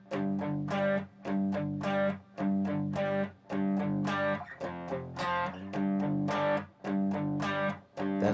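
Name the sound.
electric guitar with distortion playing a riff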